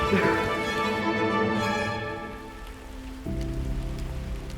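Steady rain pattering on a surface, continuous and fairly close, with a low hum underneath and no voices, on the Tongariro Alpine Crossing in New Zealand.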